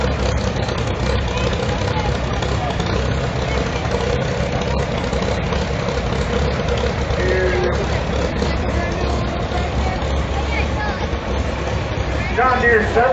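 A 1953 John Deere 50 tractor with a 31-horsepower engine runs steadily at a low, loud idle throughout, with crowd chatter and voices in the background at an outdoor steam power show.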